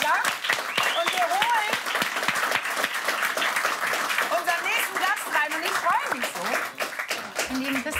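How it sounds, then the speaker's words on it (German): Studio audience applause on a German late-night talk show, sustained and loud, with voices speaking and singing over the clapping. "Also ich sage Applaus für Honig im Kopf und für Till Schweiger"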